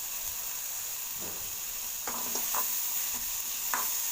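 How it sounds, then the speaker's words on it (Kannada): Ingredients for chitranna sautéing in a small amount of oil, a steady close sizzle and hiss with occasional stirring scrapes of a spoon in the pan, no talking. "ಎಣ್ಣೆ ಸ್ವಲ್ಪ ಹಾಕೋಣ ಸ್ವಲ್ಪ ಬಾಡಿಸಿ ಸ್ವಲ್ಪ ಚೆನ್ನಾಗಿ ಬಾಡಿಸ್ಕೊಂಡು"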